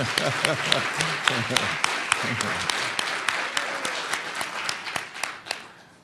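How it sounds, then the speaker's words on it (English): Enthusiastic applause from a town hall audience at a city budget meeting: a crowd of hands clapping steadily at moderate distance, thinning out toward the end, with a voice briefly audible early on. "How about now some enthusiastic applause?"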